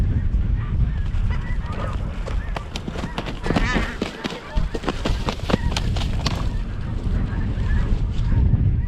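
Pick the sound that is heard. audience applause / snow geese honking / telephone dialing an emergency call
snow geese honking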